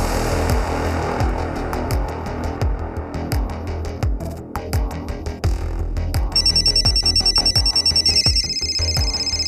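A telephone bell trills rapidly in the last few seconds, ringing over heavy, pounding dramatic music beats.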